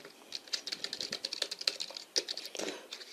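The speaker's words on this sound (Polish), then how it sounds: "I tutaj oczywiście mamy klawiaturę." Rapid, irregular clicking of keys being typed on a small laptop-style PlayStation 3 Bluetooth wireless keyboard, close up and steady with no talking.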